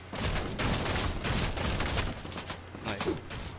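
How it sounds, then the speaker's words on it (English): Gunfire in the video game Fortnite comes as rapid bursts of shots that go on throughout at moderate loudness, with game sounds mixed in. "They're just shooting."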